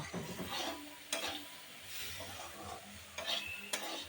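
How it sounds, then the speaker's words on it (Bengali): Lentils tossed with turmeric are stirred and fried in a pan, giving a quiet, close sizzle broken by several sharp scrapes and knocks of the spoon against the pan. Nobody speaks. "এবার নেড়ে চেড়ে ডালটা খুব বেশি ভাজবো না, তবে ভেজে নেব।"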